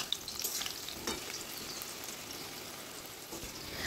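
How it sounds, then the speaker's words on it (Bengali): Potato pieces frying in mustard oil in a pan make a soft, even crackling sizzle throughout, with a few scattered pops and stirring scrapes, fairly quiet and steady. "এবার এই তেলের মধ্যে প্রথমে আলুগুলোকে ভেজে নিতে হবে।"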